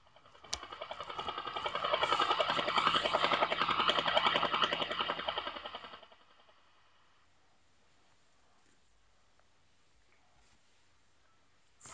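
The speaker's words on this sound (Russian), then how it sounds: "Вертолет." A helicopter's rotor chops in a fast, rhythmic pulse, loud and close for about five seconds, then cuts off into near silence.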